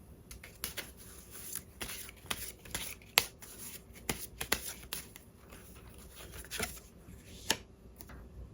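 Tarot cards are shuffled and riffled at close range in irregular bursts of crisp flicks and slaps, with soft rubbing between them over several seconds.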